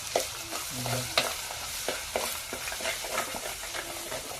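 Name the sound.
tempering spices in hot oil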